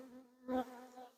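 Honey bees from a swarm hum as they file into a hive box, a soft, close buzzing drone that swells briefly in the middle of a very short moment.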